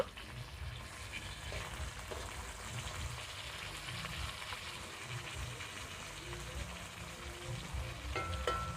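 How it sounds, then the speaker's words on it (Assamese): Clown knife fish, cooked with mustard, frying in hot oil, a steady crackling sizzle with a soft background hum and a few faint clinks near the end. "এনেদৰে মাছখিনি ভালদৰে ভাজি ল'ব।"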